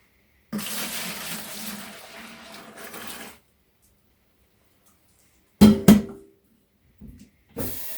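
Hot water runs from a tap for washing thrifted glass jars, a steady splashing stream for a few seconds, then silence, then short bursts of water and clinks near the end.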